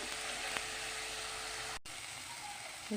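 Spice paste with turmeric and a splash of water sautés in a pan for a fish curry with tubers, a steady faint sizzling hiss broken by a brief cut and a small stir noise near the end.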